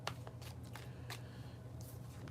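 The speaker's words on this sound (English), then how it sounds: "We're about to do the bridge shuffle." Tarot cards are bridge shuffled close up in a quick series of riffling bursts and soft card clicks over a low steady hum, with no talking.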